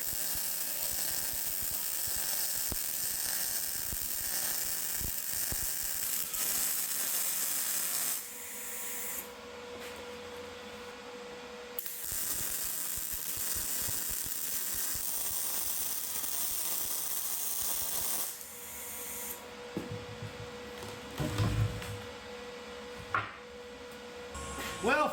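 A frame being welded from scrap steel produces long, steady bursts of harsh hissing crackle, each lasting several seconds, with quieter clanks and shop noise in the gaps between welds.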